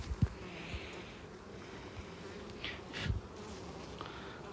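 Honeybees at a two-storey hive buzz steadily close by, with a constant drone and a few louder passes as individual bees fly near.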